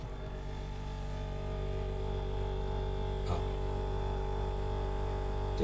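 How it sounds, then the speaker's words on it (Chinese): An SKG JC88M compact refrigerator starts up and settles into a steady, close, tonal running hum, with a faint click partway through and no talking. "这就是这款冰箱启动时候的声音"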